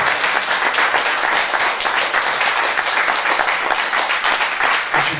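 An audience at a live music show applauds loudly and continuously, dense close clapping with no break for about five seconds.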